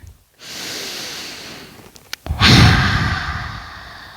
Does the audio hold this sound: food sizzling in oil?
no